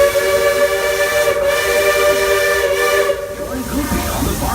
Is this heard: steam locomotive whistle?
yes